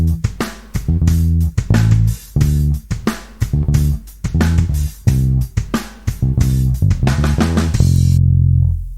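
Bass guitar plays a song's line in a steady groove of repeated plucked low notes with short gaps between phrases, close and prominent, ending on a held note with no voices.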